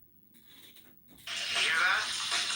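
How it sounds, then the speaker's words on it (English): Steady hissing sizzle that starts abruptly partway through and continues loudly to the end, following a quieter stretch of faint noise. "You hear that? That's the sound of sizzling."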